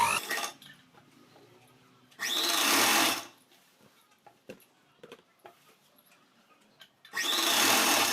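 A sewing machine stitches the fabric of a circular palazzo pant in two loud runs of about a second each, with quiet fabric handling in between and a third burst starting at the end.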